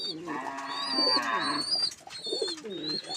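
King breed pigeons coo at close range on a pigeon farm, low throaty calls rising and falling in short phrases, with higher chirping bird calls over them and a faint murmur of voices behind.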